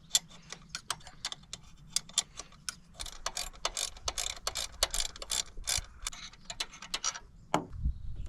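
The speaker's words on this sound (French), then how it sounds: "Je reprends ma clé de 10 et on va desserrer cette vis là." A 10 mm ratchet wrench loosens a screw on the belt tensioner of a Ford Fiesta during alternator replacement, giving a quick series of small, close clicking ratchet ticks at a fairly steady rhythm.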